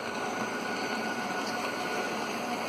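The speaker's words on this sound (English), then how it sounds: "here comes the freight train with the good food." A container freight train rumbles steadily on the tracks, a continuous broadband roar with a faint whining tone, fairly loud and unbroken, with no voices.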